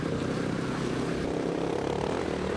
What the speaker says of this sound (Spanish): ¿Cómo suena ese escape Yoshimura nuevo?